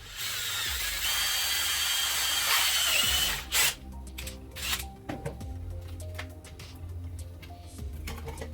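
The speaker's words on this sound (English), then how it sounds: "I'm going to drill a hole here and put in another bolt." A power drill bores a hole for a bolt through a Tusken Raider mask face plate, a loud continuous whine for about three seconds, then stops, followed by clicks, rattles and handling noises.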